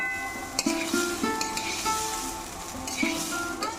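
Ingredients for khichuri fry in a pan with a steady low sizzle, broken by a few scrapes and clinks of stirring and faint high tonal squeaks.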